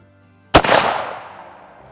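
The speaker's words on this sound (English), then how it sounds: "To fire this, pull this back, pick out a safe background." A muzzleloading rifle fires once outdoors, a single loud, close boom that rings out and fades over about a second.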